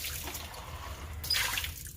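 Dirty paint water poured out of a cup into a sink, a short splashing trickle near and close, lasting under two seconds with faint room noise around it.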